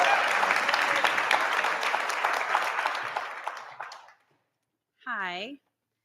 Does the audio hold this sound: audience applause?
yes